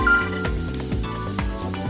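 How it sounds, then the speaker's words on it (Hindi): Onions frying in oil for chicken dum biryani, a close, loud continuous sizzle with light stirring, with nobody speaking. "ये जो ऑयल है इसमें हम लोग ऑनियन को थोड़ा फ्राई करके लेंगे"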